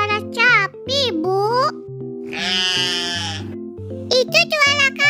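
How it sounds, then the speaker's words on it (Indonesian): A goat bleats in a loud, wavering cry in the middle, with children's voices chattering before and after it over light background music. "Itu suara kambing."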